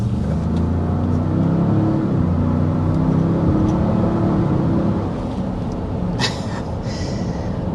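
A 2025 Ford Expedition Platinum engine, not a V8, revs with a loud, deep, burly rumble that rises and holds for several seconds, then settles to a lower hum.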